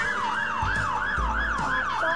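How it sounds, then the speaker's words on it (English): A real fire engine's siren wails in a rapid repeating rise and fall, loud and close, cycling about six times with a low engine rumble underneath. "Sirens on."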